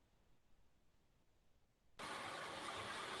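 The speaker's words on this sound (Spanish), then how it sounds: "hay un carro que está pasando cerca" A car passes close by: after a quiet stretch of low background noise, a loud, steady engine rumble cuts in abruptly and holds strong to the end, with no talking.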